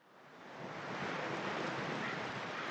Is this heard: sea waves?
yes